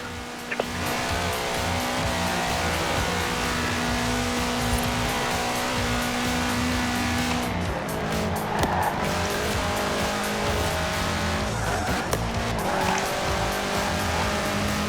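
A car in Forza Horizon 4 roars under hard acceleration with a loud, constant engine drone and bursts of squealing tires throughout, close and unbroken.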